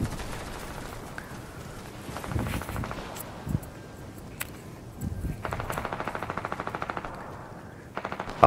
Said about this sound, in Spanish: Por ahí tenemos unos disparos